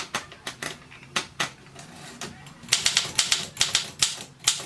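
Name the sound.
Olympia SM2 typewriter being operated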